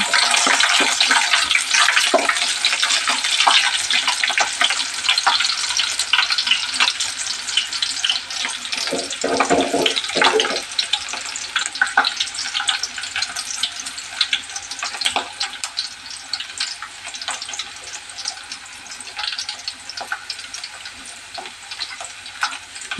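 Brinjal curry sizzles and fries in a pan while being stirred, a dense, continuous crackling hiss close by with scraping stir sounds throughout and no speech.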